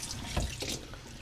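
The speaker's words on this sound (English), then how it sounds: "Now you can put in the water and start pushing in" Water running from a tap into a sink or basin to wash raw alpaca fleece, a steady close splashing flow for about a second with no one talking.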